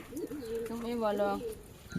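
A pigeon's low, throaty coo rises and falls in a couple of rolling phrases, close and clear over quiet background noise.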